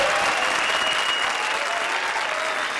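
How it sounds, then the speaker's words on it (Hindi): Studio audience applauding on a televised comedy show, a steady, dense wash of clapping that holds loud and even from start to finish without pause. "अरे तालियां, तालियां"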